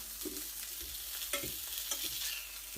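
Salmon fries in oil in a pan with a soft, quiet sizzle, broken by a few scraping stirs and clicks of a utensil, close by with no voices.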